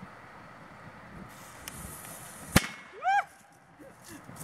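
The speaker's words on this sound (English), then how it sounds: "All right, so we got one of these small firecrackers." A small firecracker set in the middle of a plate goes off with one sharp, loud crack. A brief whistling chirp follows, with faint background noise around it.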